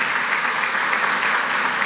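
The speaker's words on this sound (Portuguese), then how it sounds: "Então dá uma salva de palmas para Deus" A church congregation claps steadily in dense, continuous applause throughout, loud and even with no pause, during a worship service.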